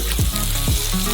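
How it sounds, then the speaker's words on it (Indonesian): Ground meat frying in oil in a pan on a stove, a loud close sizzle throughout with two short scraping stirs. "Taruh wajan di atas kompornya, tambahkan minyak, dan goreng daging gilingnya."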